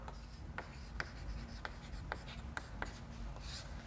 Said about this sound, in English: let me write down this as a